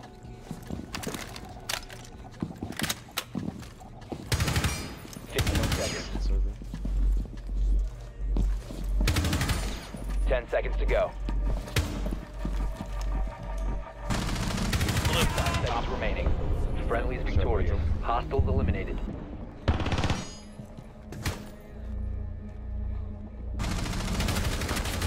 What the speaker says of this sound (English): Oh, this is a shotgun.